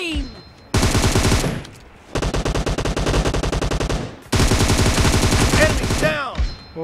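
A Beryl M762 assault rifle fires full-auto in a video game, loud rapid bursts of gunshots in three long strings separated by short pauses, with ringing shell and mechanical clicks trailing off.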